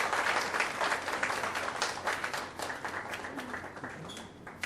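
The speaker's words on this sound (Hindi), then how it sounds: "मैं चाहूंगा कि तालियां जरा जोरदार तरीके से होनी चाहिए" Audience applause at a Bollywood book launch, a dense wash of clapping from a modest crowd that starts full and gradually thins and fades over a few seconds.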